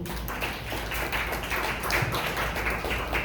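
A church congregation claps together in a steady, dense patter of hands that holds fairly loud and even throughout, with no voices standing out above it.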